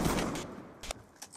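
Gunfire in the video game Call of Duty Black Ops 2 comes as a quick burst of sharp shots, then a few separate cracks that fade over a second or so.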